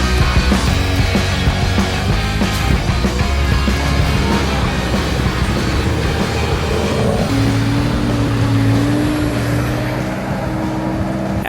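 Three cars grinding up a final steep climb on a rough track, engines droning steadily and loudly, with a rising whine toward the end.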